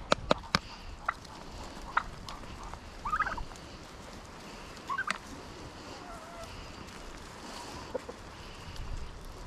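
Several turkeys gobbling near a person offering them chilies, a few short, faint gobble bursts scattered over a quiet outdoor background.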